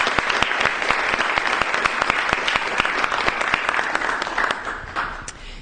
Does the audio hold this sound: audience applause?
yes